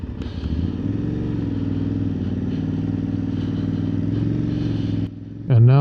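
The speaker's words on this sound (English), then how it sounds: "I'm on the notorious, the famous Tuareg 660, and this engine is legendary" An Aprilia Tuareg 660 adventure motorcycle's engine heard from the saddle on a mountain ride, a steady loud mid-pitched drone with wind rush that dips briefly near the end before a voice cuts in.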